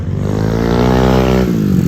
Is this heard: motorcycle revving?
yes